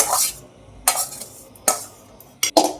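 A utensil scrapes and stirs chicken into rice in a pot for chicken tehari, giving a few separate close scraping strokes with short metallic clinks and quiet gaps between them.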